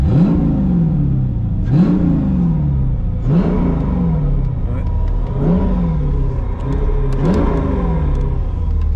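Mercedes C55 AMG engine with a cold air intake and fuel pump setup, running rich, revved repeatedly: about six sharp throttle blips rise and fall in a steady rhythm, loud and close, over a continuous idle rumble.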